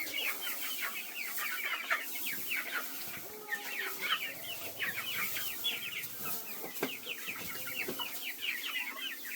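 Farm chickens cluck busily together in a warm sunny spot, a steady stream of overlapping short clucks and murmurs close by, with faint background bumps and no talking.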